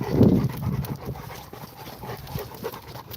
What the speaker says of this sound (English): Y'all can hear them. They breathing now